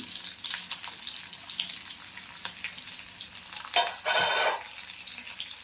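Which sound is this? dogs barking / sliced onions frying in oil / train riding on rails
sliced onions frying in oil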